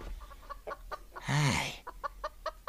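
A chicken clucks in a series of short, evenly spaced calls at moderate distance, broken by one longer drawn-out squawk in the middle, with no voices present.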